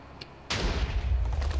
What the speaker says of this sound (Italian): Vai, dice. fai partire il cannone.